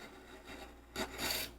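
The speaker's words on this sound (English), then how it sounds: "You can peel that off like that right there off the end grain." A sharp chisel paring thin shavings off the end grain of wood in a workshop, giving short close scraping rasps, the last two a little louder and longer.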